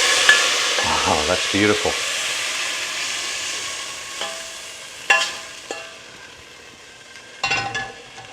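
Meat browns in the bottom of a pan for a Guinness stew, sizzling steadily while utensils scrape and stir with a few sharp knocks; a voice briefly exclaims over it.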